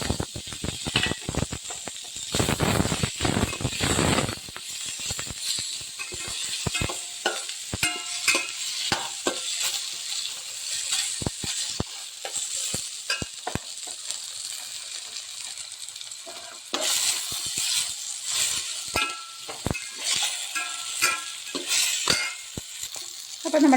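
Vegetables and tomato sauté in a pan for a sambar, a soft sizzle broken by frequent scraping and clinking of a spoon against the pan, close and fairly quiet.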